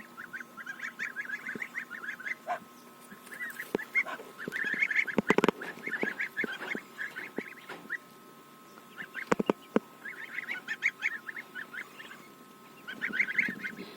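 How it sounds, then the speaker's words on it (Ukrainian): Young geese honking and peeping in a busy flock, with overlapping high, nasal calls repeating constantly, plus a few sharp knocks nearby. "там у нас є і ще гусенятка, трошки старші"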